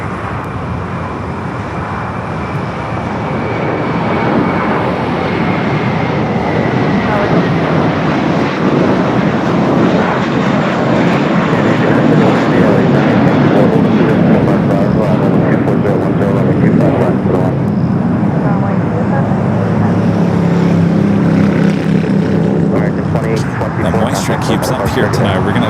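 An airliner takes off full length from runway 25 right at Los Angeles International Airport at night, its loud, broad jet roar building within seconds and then holding steady and powerful for the rest of the clip.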